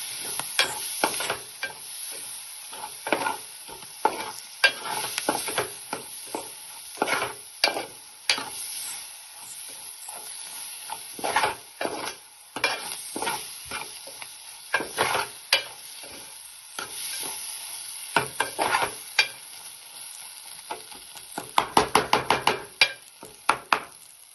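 Food stir-fried in a pan in a Konkan home kitchen, a steady sizzle carrying many scraping and clacking strokes of a spatula that grow sharper near the end, close up, with no voices.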